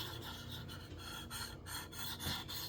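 A sharpening stone on a KME knife sharpener rubs along a blade's edge bevel in quiet, steady rasping strokes, close and faint, with no voices.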